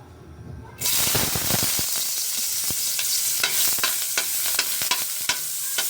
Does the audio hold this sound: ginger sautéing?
yes